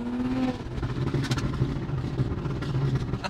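SUV with a loud aftermarket exhaust and turbo, a short close engine rev that drops into a rumbling idle with whirring and light clatter.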